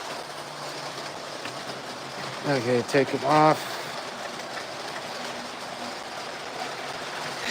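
An O gauge model train runs on a layout with a steady rolling clatter of wheels and track that continues throughout, while a voice speaks briefly midway.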